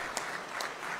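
A press conference audience keeps up a steady wash of clapping at the introduction of a new Syracuse University football head coach, heard from some distance with no talk over it.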